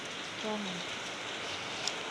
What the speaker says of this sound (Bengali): বৃষ্টি বৃষ্টি ওয়েদার, ঠান্ডা ঠান্ডা ওয়েদার